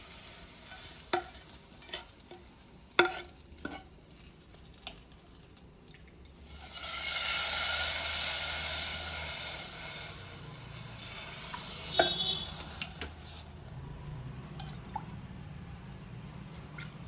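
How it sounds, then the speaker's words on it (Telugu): A hot tempering hits buttermilk for majjiga charu with a loud, hissing sizzle lasting several seconds, preceded by scattered clinks and stirring taps and followed by quieter stirring. "ఇప్పుడు ఇంక ఈ తాలింపు ఆపేస్తున్నాను. ఆపేసి డైరెక్ట్గా ఇందులో కలిపేస్తున్నాను."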